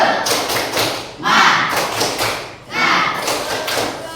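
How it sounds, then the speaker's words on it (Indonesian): A group performs the rhythmic spirit clap (tepuk semangat), delivering a few loud, closely spaced clusters of claps and thumps in a steady pattern, fairly near. "Tepuk semangat."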